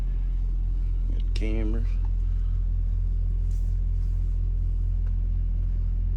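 A Foretravel Grand Villa Unihome motorhome engine idles with a steady, close, low rumble that runs the whole time, and someone speaks briefly over it.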